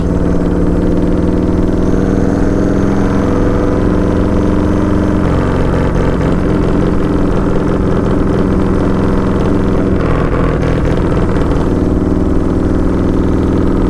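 A loud Sugar Bear springer motorcycle engine runs steadily and close, with rumbling idle shifting into revs and throttle surges throughout, with no talking.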